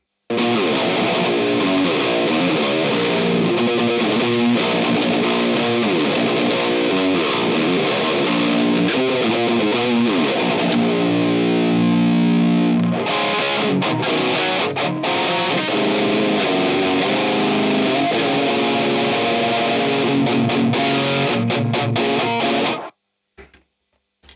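A heavily distorted electric guitar through a Randall RM100 amp with a Synergy module plays a dense, sustained rhythm part with reverb and delay off, loud and continuous before cutting off abruptly near the end.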